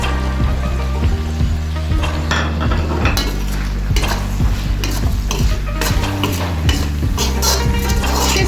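Chicken jalfrezi stirred with spices in a pan: continuous loud sizzling and frying with repeated scraping and clinking of a utensil against the pan, close up, no talk.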